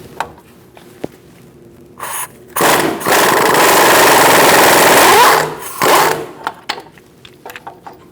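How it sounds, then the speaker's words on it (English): An impact gun with a 21mm socket loosens a nut on a 2004-2012 Chevrolet Colorado front hub, with short bursts before a sustained few-second rattling whir, then clicks and taps afterward. "I'm going to use my impact gun to loosen it up"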